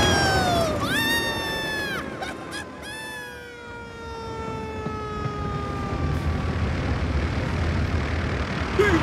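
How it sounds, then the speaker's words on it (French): Hugo the cartoon plane's propeller spinning with a steady droning whir, joined by honking duck-like calls and rising tonal sweeps that fade out after a few seconds. "Arrête l'hélice, tu entends?"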